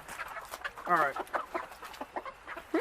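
Backyard chickens cluck in short, close, irregular calls with one louder warbling cackle, while someone speaks briefly nearby in a garden.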